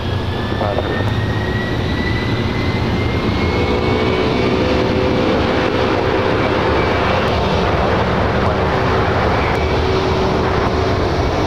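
A jet airliner takes off from runway 24 left at LAX, its engines a loud, continuous roar with a rising whine that holds steady throughout, heard from nearby with no talk over it.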